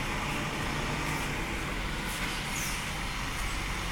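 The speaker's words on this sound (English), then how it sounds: "with those weather conditions the Unimog climbs up very easily this little hill" A Mercedes-Benz Unimog truck climbing a small hill on a demonstration course at Ötigheim, Germany, its engine giving a low, steady rumble at moderate distance, with brief hissing near the middle.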